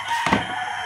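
A farmyard chicken, the bird grandma caught, gives a single brief loud squawk or crow-like call, close by and over quickly.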